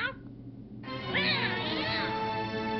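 A black cat hidden in a bin in the Broken Sword video game lets out a long, wavering meow that rises and falls over a steady background hum.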